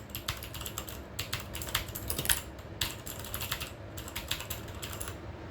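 Rapid typing on a RAKK Sinag mechanical keyboard with clicky MX Blue switches produces a dense, continuous stream of close, crisp key clicks with small pauses between bursts, and nobody talks.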